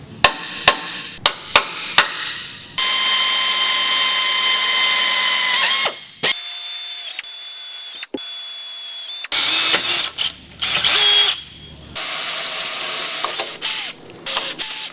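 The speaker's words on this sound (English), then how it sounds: "Center punch and drill out the 4 locations for the 7/16 hardware." Several sharp taps of a center punch, then repeated bursts of a drill whining through metal for 7/16 hardware on a 1963-82 Corvette, starting and stopping with short pauses between holes.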